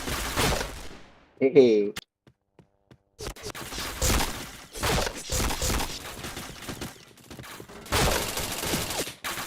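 Rapid gunfire bursts in the online shooter Point Blank, played in team matches, crackle in loud clusters separated by short gaps, with players' voices and laughter mixed in.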